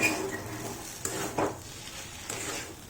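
A spoon scrapes and stirs spices and Schezwan chutney into atta pasta in a pan. Several distinct scraping strokes sit over a soft background sizzle, close by and moderately loud.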